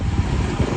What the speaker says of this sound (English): Holy crap, it is windy out today